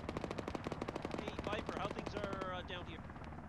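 Rapid automatic fire in the military game Arma, played as a ShackTac squad: a long, steady stream of evenly spaced shots that thins out near the end as voices speak over it.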